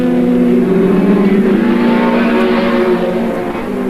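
Touring car racing at Mallala circuit in the 1990 ATCC round, a loud engine drone holding steady, then easing off slightly toward the end.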